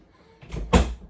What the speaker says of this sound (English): Close the kitchen door, please.